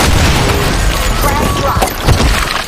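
Grenade blasts and gunfire in a team shooter game on a sandstorm map, a loud continuous wash of booms and pops, with a heavier thump near the end and voices calling out over the battle.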